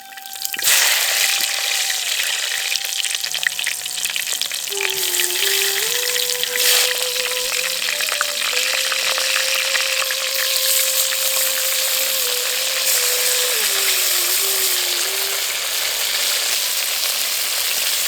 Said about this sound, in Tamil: இப்போ நம்ம எடுத்து வச்சிருக்க கத்திரிக்காயை நல்லா கீறி கத்திரிக்காயில உப்பு தடவி எண்ணெயில சேர்த்துடலாம்.